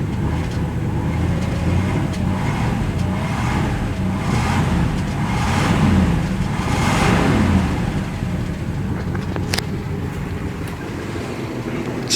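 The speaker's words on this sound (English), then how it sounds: "Give her some revs." A 1955 Buick Special Riviera two-door hardtop engine revs steadily, with a broad low rumble that swells and eases a few times over about twelve seconds. It sounds close and continuous, with no talk over it.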